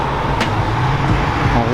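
A Renault 5 Turbo 2 pulls up at an event entrance with its engine grumbling low and close, a steady rumble broken by a few brief sharp noises, while people talk nearby.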